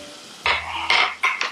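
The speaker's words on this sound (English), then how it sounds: "Give that a good stir all together." Onions, garlic and green peppers scraped and stirred in a pan, three loud bursts of utensil-on-pan scraping with short pauses between, close by and free of talk.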